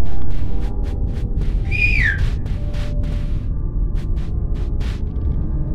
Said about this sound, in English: Pyro, did you hear any of those whistles?